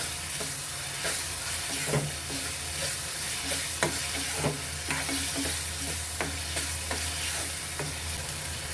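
Tomato added to a spicy prawn masala frying in a pan, with a steady sizzle and repeated scraping and stirring clicks from a spoon throughout, close and fairly loud, no talking.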